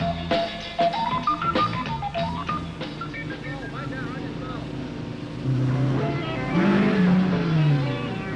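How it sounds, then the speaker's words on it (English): Rally cars roar out of the night on muddy, rain-soaked roads in the rough New England ranges during the 1974 Southern Cross Rally, engines rising and falling loudly with a narrator talking over them. "The cars come booming out of the night."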